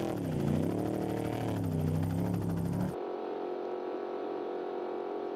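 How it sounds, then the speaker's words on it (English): Helicopter flying close alongside an off-road race truck in the Mint 400 desert race, a loud whirring drone with shifting pitch that cuts abruptly to a quieter, steadier engine hum. "that helicopter following close by"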